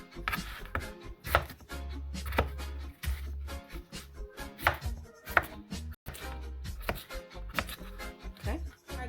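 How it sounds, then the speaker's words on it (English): A knife chops a potato on a cutting board, giving a handful of sharp, close thuds in an uneven rhythm while a person talks between the cuts. "I'm using the potato to give the gravy some body. So I'm just using one. And just cut it like that."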